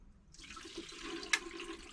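Film developer is poured into a Jobo CPE3 processor for colour negative processing, a soft liquid rush and trickle close by, with a small knock partway through.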